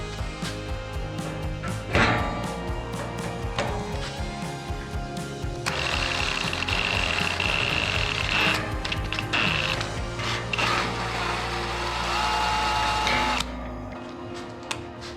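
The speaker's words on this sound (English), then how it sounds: "I'm going to chuck this up in the drill and we will install the first Rivnut." A drill whirs steadily for several seconds installing a rivnut, with clicks and clunks of handling before and a sharp stop at the end.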